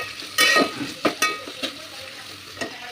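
Green peas and chopped tomato are stirred and fried in a pan, giving a soft sizzle broken by four or five distinct scraping stir strokes, close and fairly quiet with no talk.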